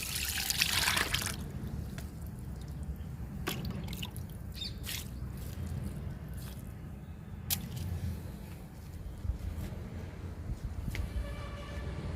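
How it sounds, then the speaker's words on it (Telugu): Liquid fertilizer pours and trickles onto a plant bed in a bitter gourd garden, a steady close splashing and dribbling with a few sharper drips and faint birdsong behind. "పాదు కూడా లిక్విడ్ ఇచ్చేద్దాము లిక్విడ్ ఇచ్చి కాకరకాయలు కోసుకుందాము"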